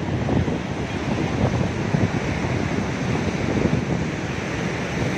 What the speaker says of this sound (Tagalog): Sa ngayon malakas kasi ang alon